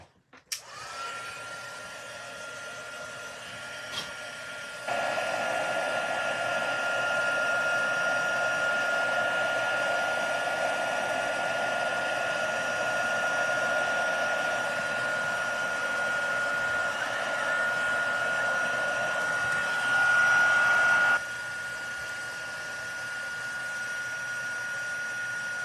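A heat gun used for heat embossing a Halloween craft project blows in a steady whirring roar for about sixteen seconds, close and loud, then cuts back to a quieter hum, with no talk.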